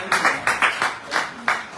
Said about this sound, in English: So a round of applause for our Abuja director